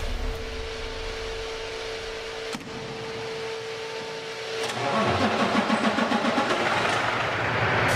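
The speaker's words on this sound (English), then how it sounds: "we'll go ahead and prime this engine and start her up." A diesel engine, primed and fitted with a water emulsion fuel system, cranks and catches around the five-second mark, then settles into a steady, close idle after a stretch of mechanical whirring.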